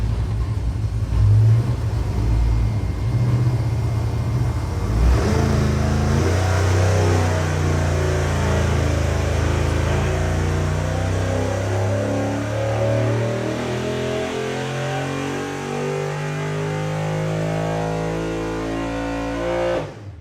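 A 427ci LS V8 on an engine dyno makes full-throttle pulls: a loud, continuous, deep roar whose engine tones climb steadily as the revs rise, sustained for the whole stretch with no talking.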